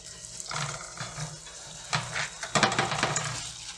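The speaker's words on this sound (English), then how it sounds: "So first, you need to wash this peel really good." Pineapple peel being washed under running water for tepache, with splashing and rubbing in bursts that grow louder toward the end, close and without talk.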